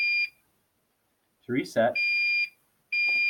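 A fire alarm control panel sounds a steady high electronic tone that cuts out and resumes, pausing while someone speaks briefly nearby, then continuing loud and close.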